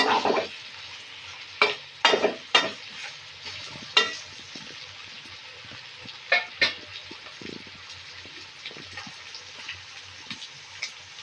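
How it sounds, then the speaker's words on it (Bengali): Chicken and potatoes frying in a pan, a soft continuous sizzle broken by sharp scraping and clacking strokes of a spatula; close by, with no talk. "আমি অনেকক্ষণ ধরে ভেজে নিয়েছি সঙ্গে আলু দিয়ে একদম ভেজে নিয়েছি"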